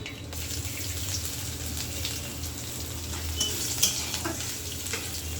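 Ginger dropped into a hot pan and stirred while a vegetarian khichuri cooks, giving a steady close sizzle and frying hiss with occasional scraping clinks and a running-water rush underneath.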